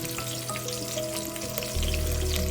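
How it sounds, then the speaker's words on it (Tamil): Onions frying in a pan for Tamil fish curry (meen kozhambu), a steady close sizzle that swells louder near the end. "நல்லா வெங்காயத்தை முறுக்கலாம்."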